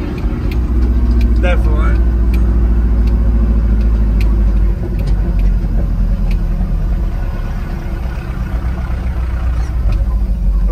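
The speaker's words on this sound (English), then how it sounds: "That's an ignition breakup." A 1972 Ford F350 truck engine runs with ignition breakup, a loud steady low rumble throughout with people talking over it.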